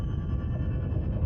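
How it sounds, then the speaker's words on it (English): Deep rumbling low-frequency drone of an underwater earthquake recording, steady and continuous with faint higher hum above. "Again, here's an example of an earthquake,"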